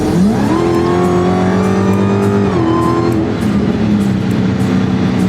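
A Dodge Hellcat accelerates hard from 70 to 90 mph, its engine note climbing steadily and loud with a brief dip at a gear change, then pulling on under constant road noise.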